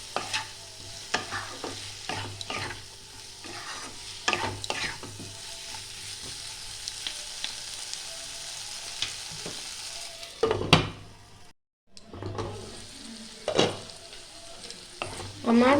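Spice paste of ginger and garlic with salt sautéing in a pan, a soft continuous sizzle broken by scraping stirs and clinks of the spoon, close and quiet.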